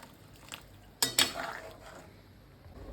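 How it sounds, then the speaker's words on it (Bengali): A metal pan of Bengali potol dalna curry on the stove gets water and a lid, heard as two sharp, close clanks of metal on metal followed by a softer rattle over a quiet kitchen background. "এবার জল দিয়ে আমি চাপা দিয়ে দেবো"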